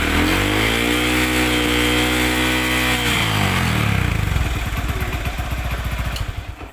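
A Honda Verza motorcycle with a suspected faulty stator coil and a draining battery revs hard and close for several seconds, its pitch climbing and holding, then drops back to a loose, pulsing idle with no voices.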